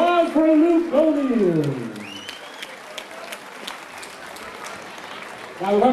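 Crowd applause at a UXC fight night after a first-round knockout: a thin, crackling patter of clapping runs beneath and between an announcer's amplified voice, which fills the opening seconds and returns at the end.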